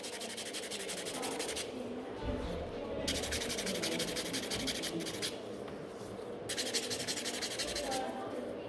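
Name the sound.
nail file filing the middle of a nail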